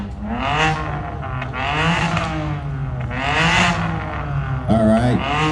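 Exhaust of a blue BMW car at the Bimmer Invasion 2023 exhaust show in LA, loud close engine revs rising and falling in several pulses, with a sharper final blip.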